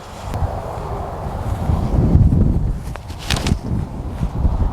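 Strong headwind blowing across an open disc golf course, a steady low roar of buffeting wind against the microphone with faint rustling and footsteps, growing gustier midway, no talking.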